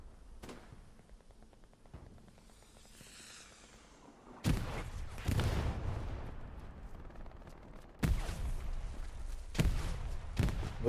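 Grenades burst in Hell Let Loose as a series of heavy booms with long rumbling tails. They arrive after a quieter stretch, with distant gunfire in between and faint commentary underneath.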